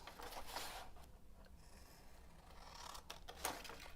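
Scissors snipping through paper while folding a small emoji mini book, with a few soft cuts and rustles spread across a quiet stretch, close by and faint.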